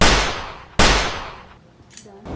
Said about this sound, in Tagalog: Putok yun ang baril?